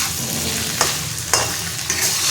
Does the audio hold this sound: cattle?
no